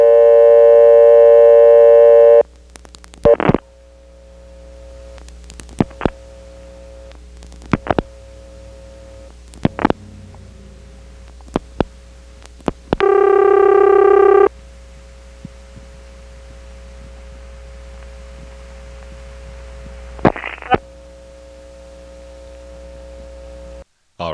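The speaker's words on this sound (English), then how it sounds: "if we start a local call ringing through that callback circuit and the party answers, it's not going to let me talk to them" A local call rings through an old Carolina Telephone step-by-step callback circuit, heard on the line as two long ringback tone bursts with sharp relay and switch clicks between them over a steady low hum.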